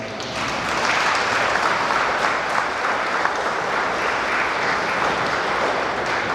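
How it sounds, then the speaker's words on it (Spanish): Loud, steady applause from a wedding congregation for the newlyweds Olivia and Carlos at a church ceremony in San Agustín Oapan, Guerrero, a dense wash of clapping sustained for the whole stretch. "les damos un fuerte aplauso"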